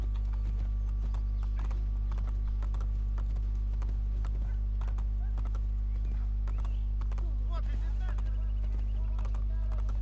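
Horse hooves clip-clopping in rhythmic, steady beats in the video game Red Dead Redemption 2, set over a constant low hum, with faint scattered sounds.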